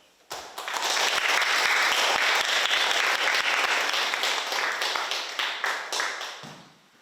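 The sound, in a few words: audience applause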